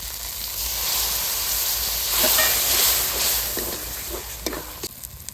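Spiced water poured into chilli masala of ground green and dry chillies with black pepper frying in oil, giving a steady loud hiss and sizzle with a few sharper crackles near the end.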